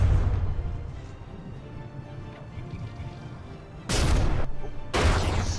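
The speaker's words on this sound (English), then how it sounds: "Suddenly explosion to the face." Naval frigate combat in the game From The Depths, with a low rumbling battle din followed by two loud, sudden explosive bursts near the end.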